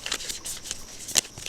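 Tarot cards being shuffled by hand, a quick run of soft riffling flicks and taps, close and fairly quiet, with no talking.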